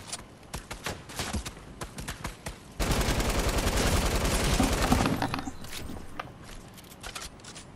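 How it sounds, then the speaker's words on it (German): Gunfire from a weapon in Fortnite: scattered sharp shots at first, then a dense sustained burst of rapid fire for a couple of seconds before thinning back to sporadic shots. "Oh, ich habe irgendeine Waffe gehört."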